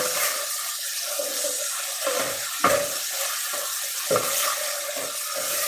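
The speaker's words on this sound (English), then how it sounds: "to mix around some of that seasoning I just put in there" Seasoned food cooking at 350 being stirred, a steady watery sizzle with a few scraping clunks of the utensil, close and continuous with no talking.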